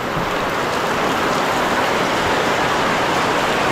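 Steady rain pours down at an open-air village market in winter, a dense, even hiss that holds at the same close, fairly loud level throughout with no other sound standing out.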